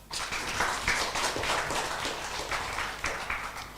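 Audience applause at a Buddhist dhamma talk on Cittabhavana, a steady patter of many hands clapping for a few seconds, fairly close and moderately loud, with no talking over it.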